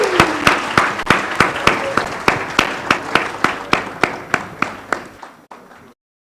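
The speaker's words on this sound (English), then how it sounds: "Let's give her a big applause." An audience at a book launch claps in unison, a loud, evenly spaced beat of sharp claps roughly three per second that carries on steadily before stopping abruptly.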